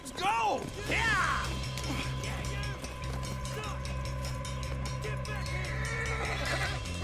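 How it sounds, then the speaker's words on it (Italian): Horse neighing and galloping in Red Dead Redemption 2: sharp whinnies near the start, then a steady run of hoofbeats, with game music or ambience and voices talking over it. "Andiamo Arthur, andiamo con questo cavallo velocissimo."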